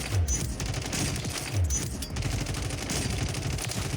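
Ram-7 assault rifle fired in Warzone on mouse and keyboard, with rapid automatic bursts of gunfire, loud and close, several strings of shots in quick succession with heavy low booms.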